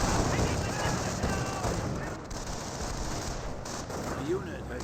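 Grenadier rifle and machine-gun fire in the real-time strategy game Company of Heroes 1 crackles in a dense, continuous battle mix, with a commentator talking over it.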